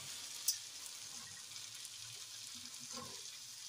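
Boiled peas go into a tomato masala frying in oil, giving a steady soft sizzle throughout with a small clatter near the start and a faint stirring scrape toward the end.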